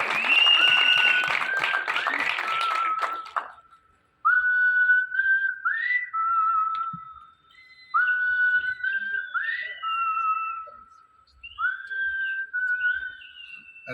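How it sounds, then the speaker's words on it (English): At a film trailer launch press conference in Mumbai, a crowd's applause fills the first few seconds, then gives way to a run of repeated shrill whistled notes, bright and fairly close. "Big round of applause."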